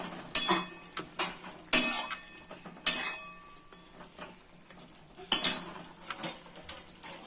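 Prawn and brinjal curry stirred in a pan, a utensil scraping and clinking against the metal in several loud, separate bursts over a soft background sizzle, with no voices.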